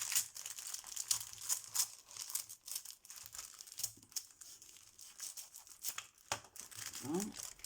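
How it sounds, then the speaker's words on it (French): A paper envelope, or pouch, is torn open along its top edge, giving crinkling and tearing rustles in short bursts, with someone talking intermittently close to the microphone. "j'ai une pochette comme ceci. Alors, en papier. Oh là, bon, moi je vais l'ouvrir par le dessus."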